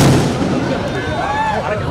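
Firecrackers crackle continuously during a Narakasura effigy burning at a Diwali-eve event in Ongole, a dense, loud wash of bangs close by, with whistling fireworks faintly rising through the din.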